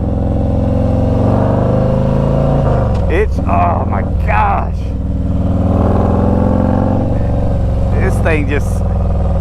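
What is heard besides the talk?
Harley-Davidson Street Glide Special FLHXS engine braking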